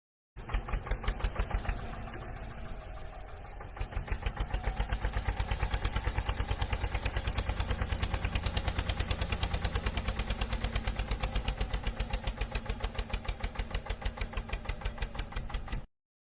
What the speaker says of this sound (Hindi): अब सबसे पहले इस ग्रीन कलर के ट्रैक्टर को यहाँ से ले चलेंगे बच्चों ड्राइव करके।